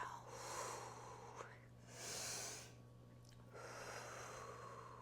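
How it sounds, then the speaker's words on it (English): Soft breaths during a slow yoga flow, three airy exhales spaced a second or so apart, close and quiet over a faint steady hum, with a soft voice in the background. "Inhaling and exhaling."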